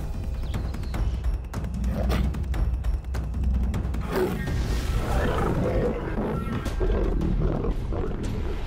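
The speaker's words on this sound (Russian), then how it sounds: "второй рычит и запугивает прайд" A lion roars and growls menacingly at a pride of lions in the wild, a deep, rumbling, sustained roar that fills the whole stretch, loud and close.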